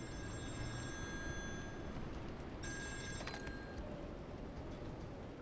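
A telephone rings with repeated faint electronic trills over a low droning background in the video game Still Wakes the Deep, with no talking.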